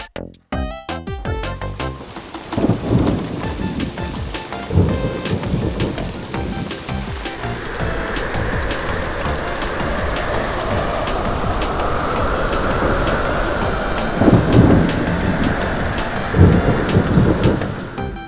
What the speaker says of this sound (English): now it's time for the storm